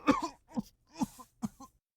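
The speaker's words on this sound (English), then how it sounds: "a cough that scratches at my throat" Several short, rasping coughs from a game character, a wheezing throat-irritated cough in four separate bursts spread over two seconds, close and fairly quiet.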